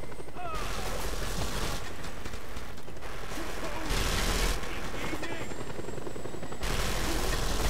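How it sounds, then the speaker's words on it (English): Helicopter in the video game Just Cause 2, a steady loud rotor and engine drone running the whole time, with bursts of gunfire-like clatter and mechanical noise layered on top. "Whenever I'm in a helicopter and an enemy chopper comes along"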